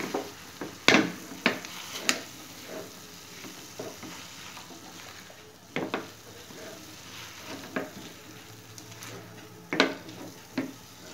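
Meat cooks in a pan with spice paste, a soft steady sizzle broken by repeated scraping stirs and clacks of a spoon against the pan.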